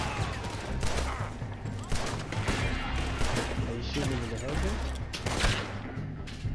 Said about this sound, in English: What are you using? The carbine rifle?